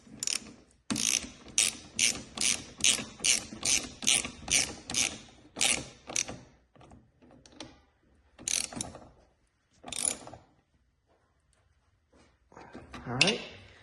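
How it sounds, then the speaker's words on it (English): A ratchet wrench tightens an exhaust bolt on a 2022 Suzuki Hayabusa during an M4 exhaust install, with a long run of quick, close, rhythmic ratcheting clicks followed by a few slower strokes and a short pause, as someone talks over it. "You're gonna get your wrench on the other side"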